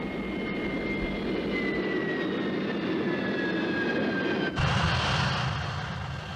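A Harrier jet making a rolling vertical landing roars steadily nearby, its broad engine noise holding from start to finish, with thin whining tones drifting above it and a sharp surge in intensity toward the end.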